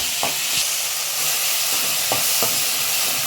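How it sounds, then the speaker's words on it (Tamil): Onions and tomatoes with salt sauté in a pan under a loud, continuous sizzling hiss, punctuated by a few sharp spoon knocks and stirring scrapes. "வெங்காயம் தக்காளி சீக்கிரமாக வதங்கி வந்துடும்."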